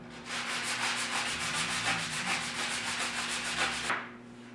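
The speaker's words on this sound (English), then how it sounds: "you'll use a sanding block for that" Rhythmic back-and-forth rasping of a sanding block on the cut end of a hardwood flooring board, about a dozen quick even strokes, close and steady, then it stops.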